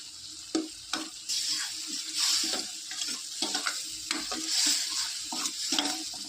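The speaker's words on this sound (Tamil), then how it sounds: "இன்னும் கொஞ்சம் எண்ணெய் ஊற்றிக்கிறேன்." Oil poured into a hot pan for a Tamil home-cooked side dish, frying with a steady close sizzle while a spoon scrapes and stirs in uneven strokes.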